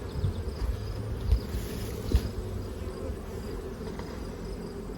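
Honeybees buzzing at a hive entrance, a dense, continuous droning hum close by with a couple of brief louder bumps.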